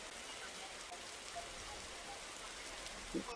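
Rain falls steadily in a video game, a constant soft hiss of drops at low level with a brief faint blip near the end.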